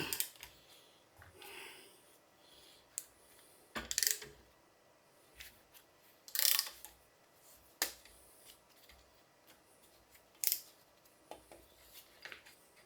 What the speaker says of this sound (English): So we screw that in, and then we start ratcheting it down.